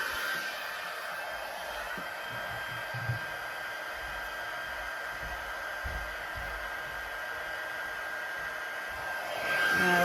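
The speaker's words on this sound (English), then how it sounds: "heat tool" A heat tool blows hot air in a steady, even whoosh that holds nearly unchanged throughout, with a few faint knocks beneath it and a slight swell near the end.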